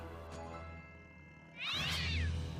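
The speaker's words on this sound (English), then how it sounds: "The jungle cats!" Cartoon jungle cats in My Little Pony make a quiet low rumble, then a sudden louder wavering meow-like yowl near the end, no talk.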